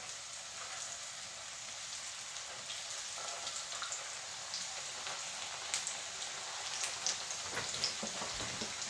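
Chebureki fry in heated vegetable oil in a pan over a lowered flame, a soft, even crackle like light rain that thickens slightly toward the end, faint and close, with no talk.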